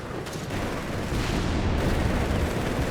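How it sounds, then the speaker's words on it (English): A StuG assault gun bombarding in Company of Heroes 3, heavy booming artillery fire layered into a dense, continuous roar of battle with no voices. "Here's Stug bombarding."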